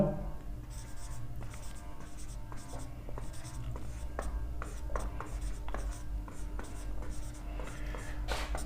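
Pen steadily scratching out the given data for a physics numerical on paper, with continuous close writing strokes and small taps throughout and a low background hum.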